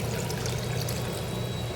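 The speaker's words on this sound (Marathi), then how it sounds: "आता आपल्याला रस्ता किती करायचा आहे त्या अंदाजाने तुम्ही याच्यामध्ये पाणी घालायचं आहे" Water poured into a spicy village-style egg curry masala makes a continuous, close splashing pour that runs steadily throughout with no talking.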